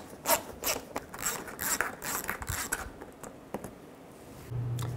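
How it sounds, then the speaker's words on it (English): Ratchet with a 7mm socket loosening wheel-well bolts on a 2006-2012 Ford Fusion, a run of quick clicking ratchet strokes close up, then quieter scraping and a low steady hum. "Use a 7mm socket. Take these three bolts out."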